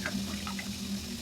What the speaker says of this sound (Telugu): ఇలా నీళ్ళు వేసేసుకొని అంతా ఒకసారి బాగా మిక్స్ చేసి